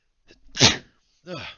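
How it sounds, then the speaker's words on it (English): One person sneezes up close into a microphone during a Magic: The Gathering game session, a short inhale followed by a sharp loud burst and then a brief vocal sound after. "I have to sneeze."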